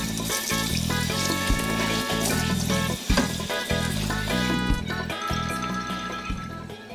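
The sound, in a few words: rinsing a tagine lid under running water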